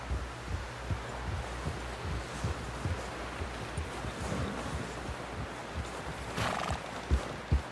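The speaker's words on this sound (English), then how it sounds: "Someone help John down off this horse." Rhythmic hoofbeats thud steadily under a low ambient bed, with a brief brighter burst near the end; the horse in Red Dead Redemption 2 sounds close but muffled.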